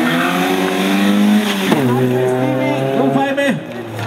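A rally car without ABS races along the Stracinské Serpentíny mountain road in 2009, its engine revving up and down with tires squealing, loud and close, as a commentator speaks.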